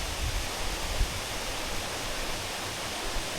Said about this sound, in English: came across this nice little pond and a dam there and waterfall